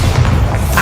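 Bombarda spell blast in the Hogwarts Legacy video game, set in a goblin mine: a dense, booming explosion with heavy low rumble that fills the whole moment, loud and close.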